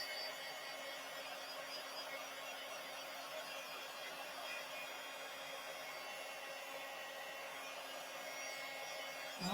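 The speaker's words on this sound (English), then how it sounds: "I'm going to save my heat tool here" A heat tool for heat embossing a card blows a steady, even whoosh with a faint high whine, running continuously near the mic and then cutting off at the end.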